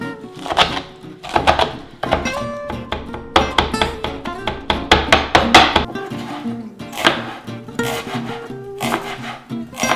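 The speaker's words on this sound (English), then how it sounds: "you start chopping the herbs finely" Sharp knife chopping fresh herbs finely on a board for a Persian dish, a close, steady run of quick crisp taps with brief pauses, alone without talk.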